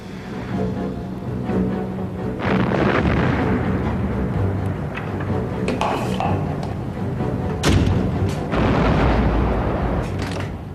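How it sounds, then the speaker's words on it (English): 6-inch naval guns on a Royal Navy cruiser firing shells in a sea battle, heard as a dense, continuous roar of heavy booms and rumbling blasts with sharper reports throughout. "Belfast's gunners loaded and fired hundreds of 6-inch shells"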